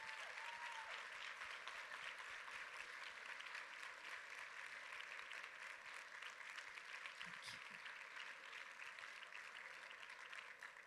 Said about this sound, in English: can you please give our candidates a rousing applause for today's forum?